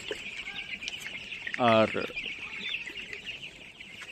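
A single chicken clucks once, loud and close, against a steady background hum inside an enclosed poultry house, with brief quiet talk nearby.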